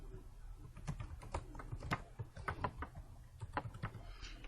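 Quiet, close typing on a computer keyboard, with a steady run of distinct key clicks in an uneven rhythm over a low background hum and no speech.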